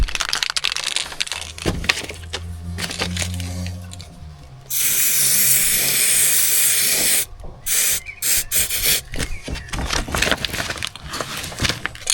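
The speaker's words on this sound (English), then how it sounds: "So I'll spray that up now." A loud, steady aerosol spray hiss lasting a few seconds, set between close clattering and crunching handling noises, during lintel replacement work in a house.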